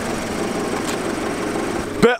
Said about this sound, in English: I can hear the exhaust rattling against the frame somewhere